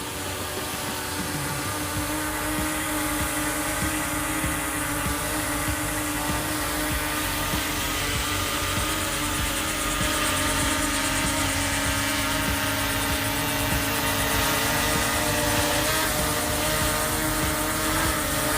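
A Ruko U11MINI 4K beginner drone hovers and flies in normal mode, its propellers giving a steady, loud, high-pitched whine that holds without a break throughout.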